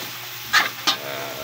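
Pancit vegetables, carrots, chili and beans, frying in a pan while being stirred, with two short scraping strokes over a soft steady sizzle.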